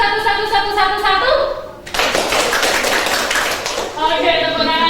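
A classroom of children clapping together in a counted rhythm, with short, sharp bursts of fast unison claps between stretches of talk in a teacher's voice.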